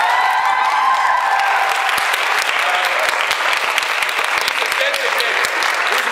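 An audience at a rehearsal for a music competition claps in sustained, dense applause throughout, with a brief voice audible at the very beginning.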